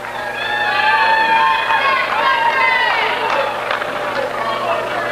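A crowd fills a high school gym during a boys' basketball game between Rutland High and MSJ, a loud rolling babble of many voices with shouts and squeaks echoing in the hall, steady throughout.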